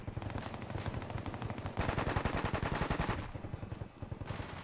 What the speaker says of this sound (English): This game does not do well when everybody starts shooting at random.